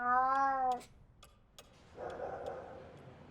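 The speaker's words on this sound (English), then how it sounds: "And Louise was a cat about town once more" A cat gives one clear, drawn-out meow, followed by a few soft ticks and a faint rustling murmur.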